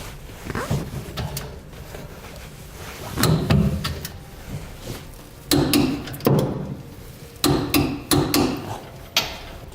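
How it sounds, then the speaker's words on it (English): A torque wrench tightens gooseneck hitch rail bolts to the side plates under a 2015 GMC Sierra 3500, giving a few close metallic clicks and knocks in irregular bursts over faint background noise. "we'll torque our rails to the side plates"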